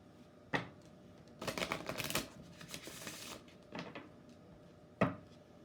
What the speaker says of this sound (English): I'm going to pull 3 Lenormand cards